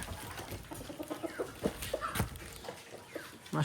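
Several hens cluck and chatter close by in a busy, overlapping flock.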